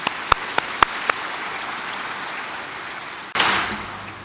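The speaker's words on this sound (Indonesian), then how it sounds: "Mari sekali lagi kita tepuk tangan bagi kemuliaan Tuhan" A church congregation applauds: a few distinct early claps swell into dense, sustained clapping filling the room, then a sudden louder burst near the end.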